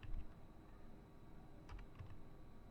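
Keystrokes on a computer keyboard during Excel data entry, a few quiet clustered clicks near the start and another short burst toward the end, with faint room hum and no talking.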